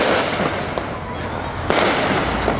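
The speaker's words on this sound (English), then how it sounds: "More fireworks. More fireworks." July 4th fireworks burst outdoors in a rapid series of crackling booms, with two sharper explosions standing out over a continuous noisy rumble.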